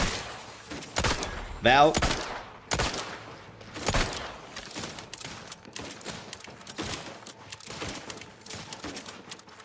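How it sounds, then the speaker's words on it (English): Gunfire in The Outer Worlds 2, loud sharp shots and short bursts spaced irregularly through an alien fight, with someone talking in between. "Why does the shooting sound weird?"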